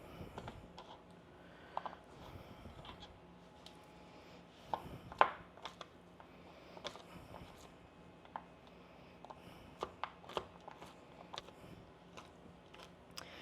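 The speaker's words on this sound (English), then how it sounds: "So this is just the mini Almond Joys. I got 2 of the 12 packs, so we have 24 Almond Joys here. And I'm just going to give these a chop." A knife chops mini Almond Joy candy bars on a cutting board, a series of sharp, irregular close taps and thuds with one louder strike, fairly quiet between cuts.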